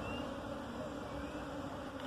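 Bees buzzing around beehives being checked for ripe honey, a steady close insect drone with several overlapping whining tones, no voices.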